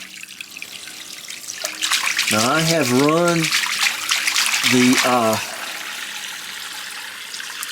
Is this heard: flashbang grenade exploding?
no